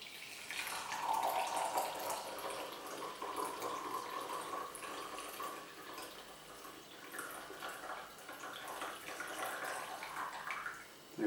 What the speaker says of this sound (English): We will turn our press around, and then we will pour.